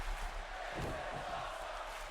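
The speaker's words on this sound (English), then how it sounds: "the crowd is eating it up" A wrestling event crowd roars and cheers in a dense, sustained wash of noise, loud and continuous, with a swell partway through.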